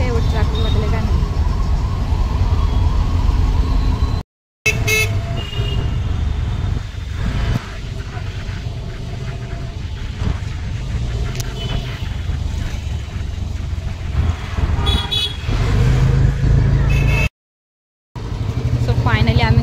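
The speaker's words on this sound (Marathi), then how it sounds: "खतरनाकमध्ये ट्रॅफिक लागले खूप." Heavy road traffic with dense, continuous engine rumble and a steady wash of vehicle noise, alone without talk, briefly cut out twice; horns are not distinctly evident in the steady traffic roar.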